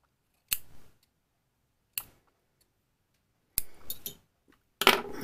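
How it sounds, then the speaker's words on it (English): Four sharp scissor snips trimming the fuzzy ends of cotton wick on an Ijoy Limitless RDTA, close and crisp, spaced irregularly with near silence between cuts. "Kind of thin her out a little bit. Snip the fuzzies."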